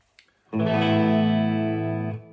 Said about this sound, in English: I like to add some reverb behind.